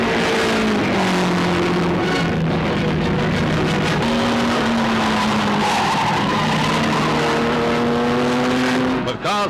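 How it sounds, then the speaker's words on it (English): Racing cars roar loudly and continuously through a vintage motor race on an island road course, engine tones rising and falling with tyre skids as they speed past, under a narrator's voice. "With cars flashing around like this"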